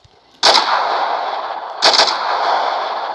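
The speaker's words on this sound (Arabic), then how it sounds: "اسمع هذا الصوت بأسلحة" Gunfire from GTA San Andreas with a Free Syria mod, two loud close weapon blasts each trailing into a long echoing rumble, with no talking.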